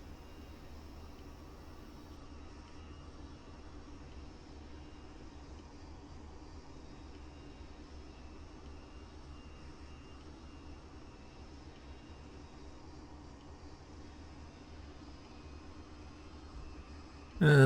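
A Dassault Mirage F1 jet in DCS World flight simulation on landing approach, a steady faint engine hum and airflow rush continuing evenly, with a brief louder burst at the very end.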